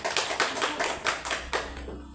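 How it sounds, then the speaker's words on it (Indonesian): A small group of students clapping for a classmate, with a short burst of brisk, uneven claps that tapers off after about two seconds. "Beri aplaus untuk Angel"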